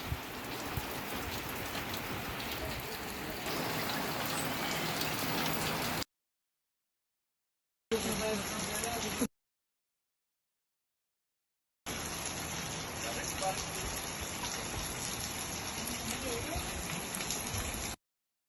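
Steady rain falls outdoors on the first day of Eid near Mabali Island in Khanpur, a dense, even hiss broken by two silent gaps, with faint voices now and then.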